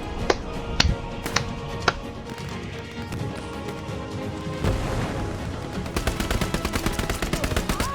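Gunfire in the WW2 video game Hell Let Loose: a few sharp single shots, then a steady burst of rapid automatic fire, loud and close over a dense background of game noise.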